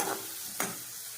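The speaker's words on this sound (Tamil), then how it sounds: "இப்போ நான் வெங்காயம் வந்து நல்லா வதங்கணும்." Onions fry in a pan for beef gravy, a short close sizzle with a brief scrape of stirring midway.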